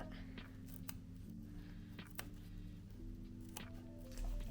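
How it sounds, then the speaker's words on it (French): Scissors snip off the excess macramé cord on a candle holder, a few short crisp cuts spaced out over a steady low background hum. "Je viens couper ce qui dépasse."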